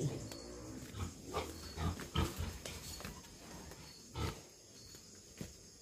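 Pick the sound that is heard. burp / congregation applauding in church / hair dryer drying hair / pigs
pigs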